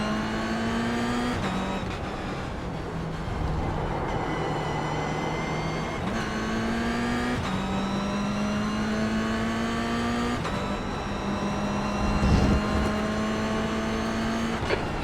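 Engines whine loudly in an iRacing-style sim racing game, driven with a Logitech G920 wheel, climbing through the revs and dropping sharply at each gear shift, again and again, with no talk.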